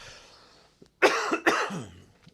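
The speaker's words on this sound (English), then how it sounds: "Hold on, I'm about to cough." Two harsh coughs in quick succession, close to the microphone, followed by a short throaty exhale.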